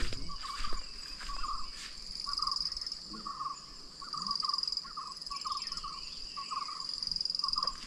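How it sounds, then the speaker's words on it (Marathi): Crickets chirp in a steady high trill at dusk in a quiet Kokan village, with short repeated bird calls in the background and no voices. "आणि इकडे रातकिड्यांचा आवाज यायला सुरुवात झाली."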